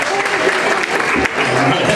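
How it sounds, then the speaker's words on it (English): Wedding reception guests applauding after a toast, a full, sustained round of clapping from a sizable crowd, with a few voices and whoops mixed in. "Big round of applause for Jenny"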